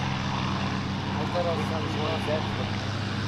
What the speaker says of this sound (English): the sound of that Rolls-Royce Merlin engine, and away he goes